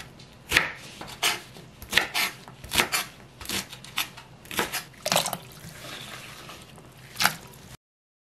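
Butterbur stems are cut into short 4–5 cm pieces, giving a series of irregular, fairly faint knife chops and cutting strokes on a board with brief pauses between them, and no talking.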